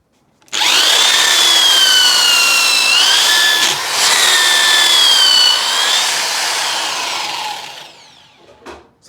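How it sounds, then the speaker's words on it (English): A power drill bores a hole for a pergola build in Central Portugal, with a loud, steady grinding whine that runs for about eight seconds with one brief dip, then winds down, followed by a few light knocks. "that's the hole drilled out"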